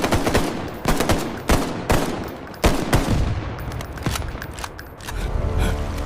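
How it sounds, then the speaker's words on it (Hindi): Sharp gunshots and bursts of automatic fire crack out repeatedly over a rumbling background of heavy shelling, loud and close, in a battle at the Line of Control with Pakistani forces. "उन्होंने गोलाबारी तेज कर दी।"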